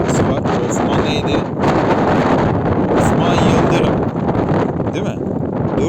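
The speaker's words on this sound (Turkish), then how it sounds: "Şöyle çok rüzgar esiyor" Strong wind roars steadily across the microphone in a continuous loud rush, buffeting it in gusts throughout.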